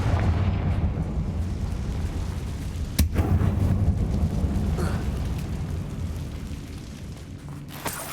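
A Confringo blasting spell goes off in the Hogwarts Legacy video game inside an abandoned mine, bringing a sharp crack and booming rumble that decays slowly, with a further sharp crack near the end.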